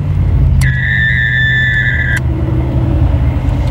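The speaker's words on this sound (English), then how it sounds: "if I heard a certain pitch sound, I would know that about what speed a car was traveling at" A police car's radar unit sounds a steady high-pitched tone for about a second and a half, loud over the constant low rumble of the moving patrol car's engine and road noise.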